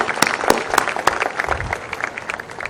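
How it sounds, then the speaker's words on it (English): An audience applauds the Vice Chancellor at a Sir Syed Day university celebration, with scattered, moderately loud clapping that thins slightly toward the end, and a few sharper individual claps stand out. "give him a big round of applause to the Vice Chancellor"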